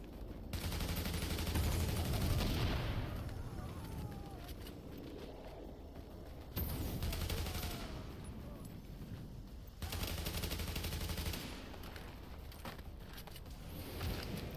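Sniper and other gunfire in the video game The Division, a dense, loud barrage of shots and blasts filling the whole stretch with a few abrupt shifts in intensity.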